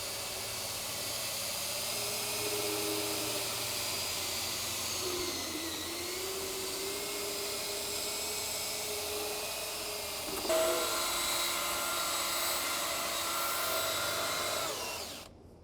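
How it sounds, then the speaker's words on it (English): A power drill brush whirs steadily against upholstery fabric in a vehicle interior, a continuous buzzing hum that shifts pitch slightly midway and stops abruptly at the end. "we're gonna set our multi-surface drill brush down"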